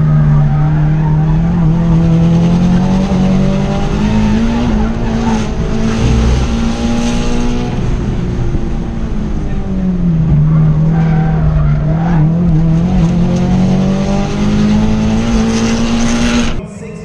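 A big-turbo 2015 Subaru WRX on a time attack lap at a race track, its engine loud and close, rising and falling in pitch through gear changes and corners, with tire squeal over the engine.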